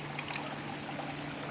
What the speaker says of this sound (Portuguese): Eu vou tomar água.